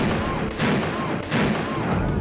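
Bomb blasts set off in the open in Howrah district, West Bengal, during a land dispute: loud, close, rough bursts of noise repeating in quick succession.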